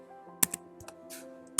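A few sparse, crisp keystrokes on a computer keyboard, close and quiet, with short gaps between the clicks and no talking.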